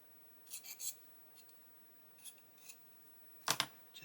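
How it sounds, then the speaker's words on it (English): A blade scrapes mould seams off a plastic part of an Airfix 1/35 Alvis FV622 Stalwart model kit, giving short, faint scratchy strokes in small clusters, with a sharper rasp near the end and no speech. "there's going to be mould seams on the corners, so we'll get those scraped away"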